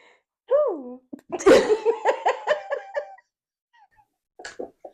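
A single sharp sneeze bursts out, surrounded by laughter and voices talking and reacting close by.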